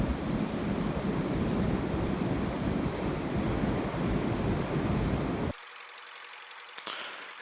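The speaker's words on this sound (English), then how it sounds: "Just listen to that wind." Strong wind roars across the microphone outdoors as a loud, steady gusting rush that cuts off abruptly after about five seconds to a much quieter background, with no speech.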